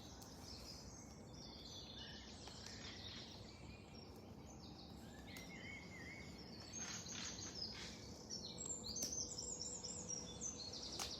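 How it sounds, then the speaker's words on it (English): Birds singing in Marbury Park, Northwich, with faint scattered chirps and tweets over a quiet outdoor background and soft insect-like buzzing, no voices. "Listening to the sounds of the birds."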